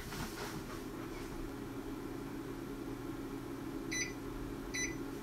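A low mechanical hum as a Commodore D9060/D9090 PET hard drive spins up, followed by two short, clear beeps spaced about a second apart.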